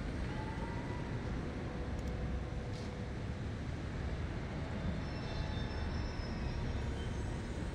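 In the Spider-Man: Miles Morales video game, trains roll along tracks with a steady, dense rumble and faint metallic squeals and clanks. The sound is continuous and fairly quiet, with no speech.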